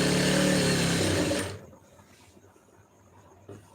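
Sewing machine running a continuous stitch along a strip of blouse fabric for about a second and a half, loud and close, then stopping into near silence with a faint bump near the end.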